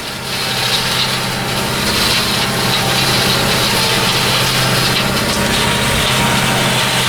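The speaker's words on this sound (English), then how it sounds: "The tractor actually will not go any slower." A tractor engine drones steadily in its lowest gear during hedge trimming, a constant close rumble with a faint rattling vibration and no voices.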